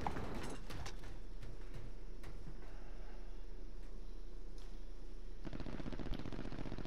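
Bursts of machine-gun fire in a video game crack around the player in a salt mine, sharp scattered shots from close and farther off over a steady hum, with no talking.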